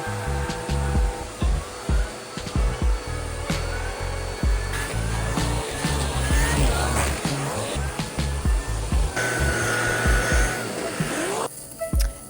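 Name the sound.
vacuum cleaner vacuuming apartment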